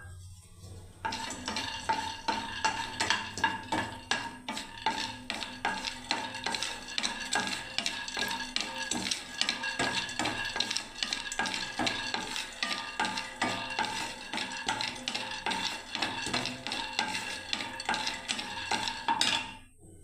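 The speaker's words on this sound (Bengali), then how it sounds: "প্রথমে বাদামগুলো ভেজে নিচ্ছি" Peanuts dry-roasting in a pan on a gas flame while being stirred, giving continuous dense scraping, rattling and rustling that stays steady and close with no voices.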